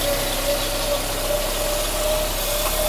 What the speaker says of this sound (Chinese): 那个摇臂的那个打击气门的声音比较明显